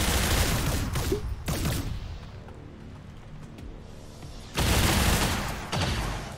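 Gunfire in the sci-fi tactics video game XCOM 2: War of the Chosen, loud bursts of shots and heavy booms at the start and again near the end, with a quieter rumbling stretch between them.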